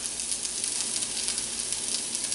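Cremini mushrooms and red onions sizzle in a hot pan, a dense, bright, steady hiss with tiny crackles that stays close and even throughout, with no voices over it.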